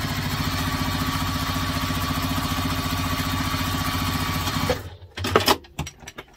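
A sewing machine stitches across the top of a bag seam in a fast, steady mechanical whir for several seconds, then stops, followed by a few close clicks and handling sounds.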